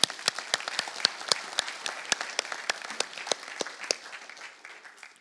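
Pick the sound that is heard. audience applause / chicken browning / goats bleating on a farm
audience applause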